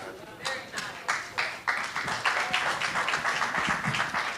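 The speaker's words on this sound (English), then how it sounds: "we can clap a little louder than that" Audience clapping at the Curvy Girl Project fashion show, a run of sharp, fairly close claps that start scattered and build into steady applause, with murmuring voices underneath.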